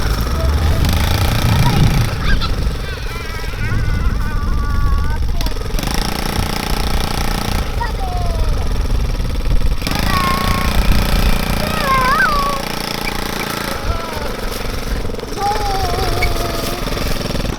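A 110cc ATV four-wheeler engine buzzes and putters as it is ridden, rising and falling with throttle changes, while people talk over it throughout.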